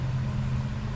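Road traffic passes outside as a steady low rumbling drone, moderately quiet and unbroken, with no voices over it.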